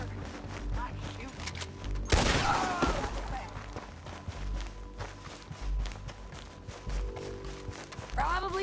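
A burst of gunfire in the Red Dead Redemption 2 video game, a sharp loud blast with a ringing tail standing out against in-game background noise, hoofbeats and character voices.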